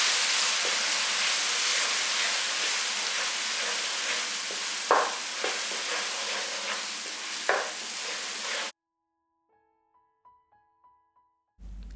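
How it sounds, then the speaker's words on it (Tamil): Special biryani paste frying in hot oil for Dindigul Thalapakatti chicken biryani, a steady loud sizzle with stirring scrapes for most of the stretch before it cuts to near silence with a few faint clicks. "இப்போ ஒரு 5 நிமிஷம் இதோட பச்சை வாசனை போகிற வரைக்கும் இதை நல்லா ஆயிலே ஃப்ரை பண்ணிக்கலாம்."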